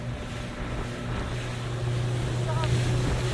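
Gusting cold wind buffets the microphone over the steady drone of a whale-watching boat's engine, rising slightly toward the end.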